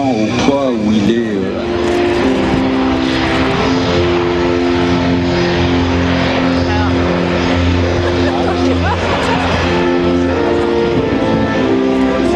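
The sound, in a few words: Airbus A380 jet engines at Paris Air Show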